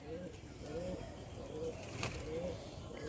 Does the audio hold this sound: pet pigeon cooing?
yes